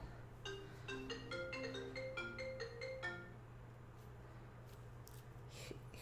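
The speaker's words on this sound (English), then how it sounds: "I'm getting a phone call." A phone rings with an incoming call: a melodic ringtone repeats several short tones for about three seconds, then stops, leaving a quiet room with a steady low hum.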